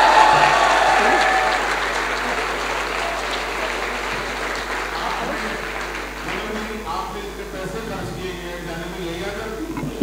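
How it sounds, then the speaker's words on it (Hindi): An audience at a Hindi poetry gathering (kavi sammelan) applauds loudly, a dense sustained clapping that slowly thins and fades over about ten seconds. "मैं चाहती एक बार जोरदार तालियां अपने लिए बजा दीजिए"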